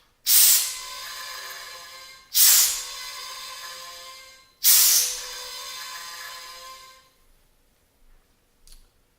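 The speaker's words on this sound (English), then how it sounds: "Then I'm going to purge the headspace." CO2 gas purging the headspace of a homebrew beer keg gives three sharp, loud hissing bursts at regular intervals, each fading as pressure vents, followed by faint clicks.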